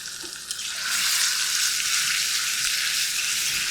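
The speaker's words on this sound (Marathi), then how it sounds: "दोन मिनिटं फक्त हे वाटण भाजून घ्यायचं" Ground masala paste sizzles and fries in hot oil for a village-style amti, a steady, loud crackling hiss that swells after the first second and holds evenly throughout, with no voices.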